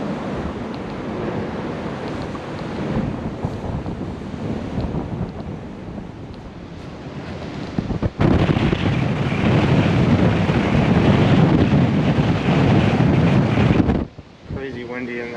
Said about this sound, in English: Crazy windy in that window.